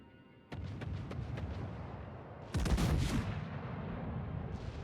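Warship guns firing in a naval video game: a run of spaced heavy shots, then a louder booming salvo midway, followed by lingering rumble.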